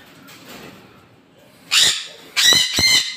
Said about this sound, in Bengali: আমার কিছু ডোমেস্টিক কালারফুল পাখি আছে